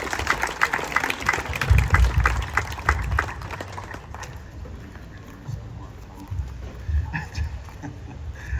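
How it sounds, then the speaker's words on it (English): Applause rises from a crowd at an outdoor Fourth of July fire department recognition ceremony, honoring responders; the clapping is loudest early, then tapers to a lighter patter with some background murmur. "Could we do another round of applause for all of those who responded"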